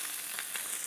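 Red mullet fillets cooking on a hot grill give off a steady, close sizzling hiss that holds evenly throughout, with no one speaking.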